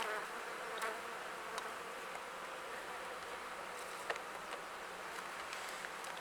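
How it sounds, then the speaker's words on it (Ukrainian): Steady buzzing from several honey bees close by at an open nucleus hive, a continuous drone with occasional brief louder passes. "Так, бджоли тікайте, тікайте бджоли."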